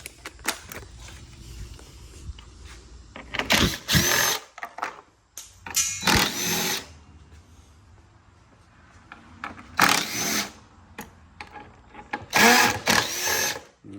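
A small impact driver working bolts loose on a Dodge Hornet during a Mopar hitch receiver install, with several sharp rattling bursts of varying length separated by quieter pauses, close and loud.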